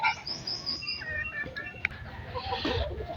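Hens clucking and calling around a chicken feeding spot, a steady mix of short clucks and higher chirps at moderate distance over outdoor background noise.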